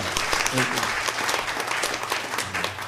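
A church congregation applauds in a steady burst of clapping that fills the room, moderately loud and continuous throughout.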